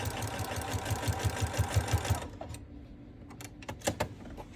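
A sewing machine stitches fabric in a fast, steady mechanical chatter up close for about two seconds, then stops, leaving a few light clicks and handling noises.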